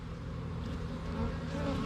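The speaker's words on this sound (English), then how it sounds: "it's springtime and I can see the bees" A steady buzzing drone of many honey bees in spring, bringing in pollen, fills the air, continuous and fairly close, without any talking.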